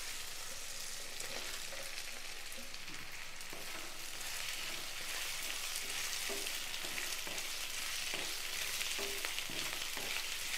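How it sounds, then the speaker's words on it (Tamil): Sliced capsicum and onion sauté in a hot pan for a baby corn chilli dish, with a steady close sizzle and occasional scraping stirs, no talking. "காயெல்லாம் பாதி அளவு வதங்கிருச்சு"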